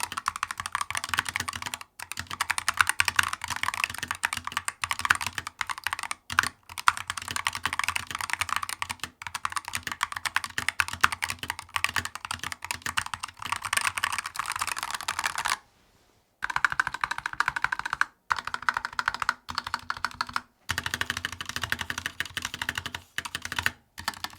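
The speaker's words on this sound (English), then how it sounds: "So the switches sound way more solid than before, less wobble, deeper tone" Fast, steady typing on a Razer Huntsman V3 Pro 8K mechanical keyboard, close up, with dense overlapping key clacks and a few brief pauses.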